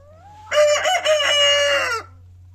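A rooster among ornamental chickens on a free-range poultry farm lets out a single loud, close crow lasting about a second and a half, with a steady low hum underneath.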